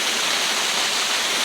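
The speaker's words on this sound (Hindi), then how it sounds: "पानी का बहाव इतना तेज़ है और इतना ठंडा है" Fast, icy river water rushes at Tapovan near Rishikesh, a steady, loud, close broadband roar with no break and no voices over it.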